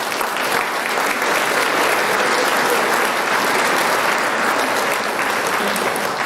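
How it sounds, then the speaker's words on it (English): An audience at an awards and scholarship night claps steadily in sustained applause, a dense, even wash of hand claps that continues throughout. "Please give yourself a round of applause."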